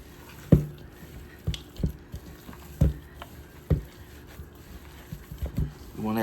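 Hands squishing and mixing raw meatloaf mixture for a smoked barbecue meatloaf, with wet squelching and patting sounds arriving in irregular bursts, close and moderately loud over a quiet background.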